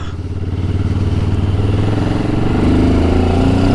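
A Benelli TRK 702 X motorcycle engine runs loud and close in a steady pulsing throb at fairly low RPM. The pitch rises slightly toward the end.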